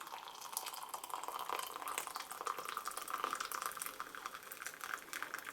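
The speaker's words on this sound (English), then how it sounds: "Pouring the tea." Tea steeped with marshmallow, mint and pansy is poured into a cup, giving a steady, close trickling and splashing of liquid that runs without a break for several seconds, with no voices.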